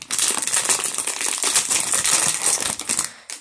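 Plastic packets of mini collectibles being torn open and crinkled close up, a dense run of crackling, rustling plastic for a few seconds before it stops.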